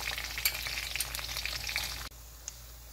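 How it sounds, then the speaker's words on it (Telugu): Whole garam masala spices and curry leaves crackle and sizzle in hot oil in a pan, a dense close frying hiss with sharp popping spatters that abruptly softens near the end. "ఇలా చిట్పట్లు ఆడే వరకు అయ్యాక ఉల్లిపాయలు వేసుకోండి"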